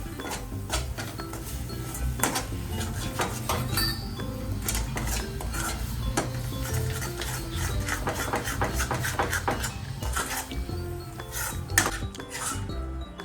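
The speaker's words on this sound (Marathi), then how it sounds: "तर चटणी पण छान आता ह्याच्यात मिक्स करून परतून घेणार आहोत." Chutney being stirred and sautéed in a pot for a spicy mutton tambda rassa and sukka, a steady scraping of spoon against metal with clinks, loud and continuous with a low hum beneath, no talking.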